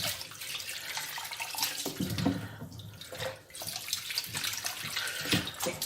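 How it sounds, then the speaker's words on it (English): Beetroot scrubbed clean under running water from a tap, a steady close splashing stream with brief dips and surges as the roots are rubbed by hand, no talking. "give these a good scrub, get rid of any dirt that might be trapped"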